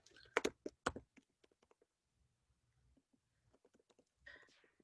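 Clicky keyboard typing during a Zoom talk on archaeology, irregular bursts of keystrokes near the microphone, loudest at the start, then sparse taps with a faint voice between them.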